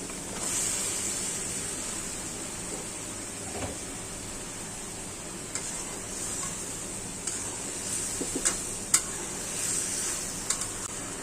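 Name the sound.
sponge gourd (dhundul) sautéing with spices in a pan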